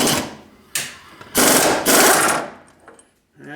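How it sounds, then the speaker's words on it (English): A large pneumatic impact wrench with a 1 5/16 inch socket rattles in several loud bursts while loosening a steering box, with short pauses between the hammering runs, then a faint clink at the end. "What we got here is an 1 5/16" socket on a big ass air gun."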